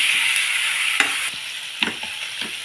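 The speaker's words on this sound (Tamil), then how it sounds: "இது கொஞ்சம் நல்லா வதங்கி வர அளவுக்கு வதக்கலாம்" Tomatoes sauté in oil in a pan with a loud, continuous hiss, close by, while a few spatula scrapes and stirs punctuate it now and then.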